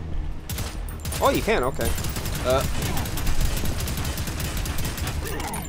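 Rapid gunfire from the shooter game Prodeus blasts at destructible objects in a steady loud stream of shots with mechanical clanks, while someone talks briefly over the shooting.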